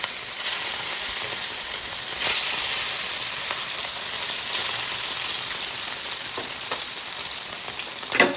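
Bata fish frying in hot oil in a wok, a loud continuous sizzle and crackle with occasional sharper spits and pops, with no talking.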